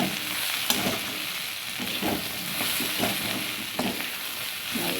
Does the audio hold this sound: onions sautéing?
yes